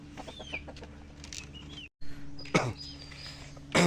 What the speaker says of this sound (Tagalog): Ayun, oh, yun yung inahin.